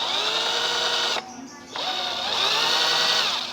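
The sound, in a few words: Pozner cordless impact drill running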